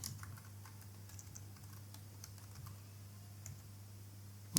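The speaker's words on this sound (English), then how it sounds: "Then I'll type my comment here, set up HTTP server." Quiet, close typing on a computer keyboard, a run of soft irregular key clicks over a low steady hum.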